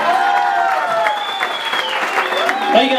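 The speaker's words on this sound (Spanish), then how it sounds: "El aplauso, familia, que se escuche." Family applause at a quinceañera with live mariachi, sustained clapping and crowd noise blending with fading musical tones for about three seconds, loud and close.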